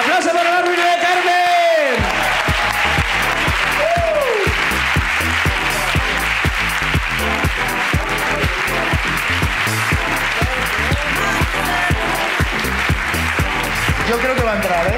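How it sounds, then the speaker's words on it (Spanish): A live audience at a comedy podcast taping bursts into loud, continuous applause with whoops and cheers, rhythmic clapping building after a brief shouted intro and carrying on for many seconds. "¡Aplausos para la ruina de Carmen!"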